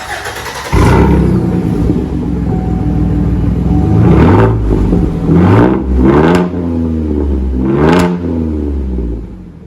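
A Chevy Silverado 4.3 V6 running on straight pipes, loud and close, holding a steady rumbling idle with several sharp throttle blips that rise and fall, all without talk.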